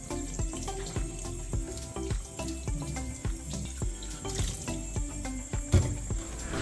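Tap water runs continuously into a sink as sprouting seeds are washed under it. The rushing flow is close and steady, with irregular splashes and clatter from the seeds being rinsed.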